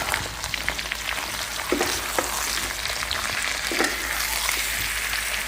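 Vegetables sizzle and fry steadily in a hot pan, with occasional scraping and clacking as they are stirred through; close, continuous frying texture with no talk.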